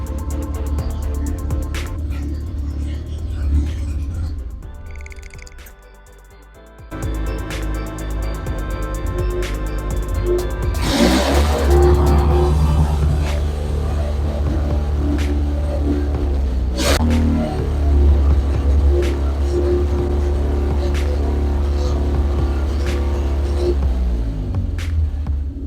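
A 1986 Honda kei truck engine runs steadily while being worked up through its gearbox from first to fourth, a low, continuous hum and rumble with shifting tone, a brief dip, then a louder sustained drone with occasional clunks.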